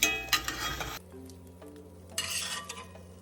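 Breakfast eggs for a pet tegu stirred and sizzling in a frying pan, a clinking utensil scraping close by, busy at first, then a quieter stretch before the stirring and sizzle pick up again.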